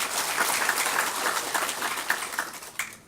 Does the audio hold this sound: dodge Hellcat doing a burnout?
no